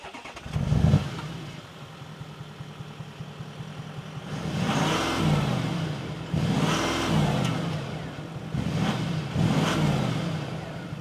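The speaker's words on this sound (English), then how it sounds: "And let's hear what the diesel sounds like." A Porsche Cayenne diesel SUV engine starts with a sharp burst, then idles and revs repeatedly in several rising and falling surges, throaty and fairly close.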